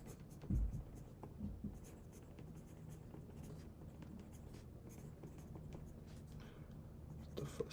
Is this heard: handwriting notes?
yes